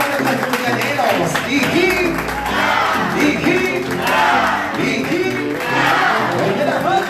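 A crowd at a 70th and 61st birthday celebration claps and cheers loudly and continuously, with a voice calling out over the rhythmic palms and festive noise.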